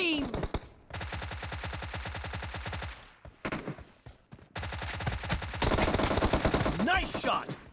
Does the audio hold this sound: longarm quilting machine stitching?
no